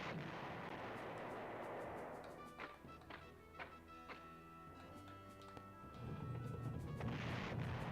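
Artillery fire in the Panzer General retro war game: a roaring blast fades into a series of separate booming thuds and crackling impacts, then another rumbling burst closes the sequence, fairly loud with no talk.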